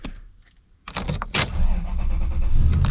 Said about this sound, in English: Will the second battery start the truck?